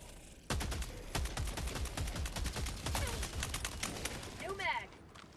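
Sustained automatic gunfire from a video game rifle fitted with a foregrip, a fast steady string of sharp shots lasting several seconds before easing off, fairly quiet overall.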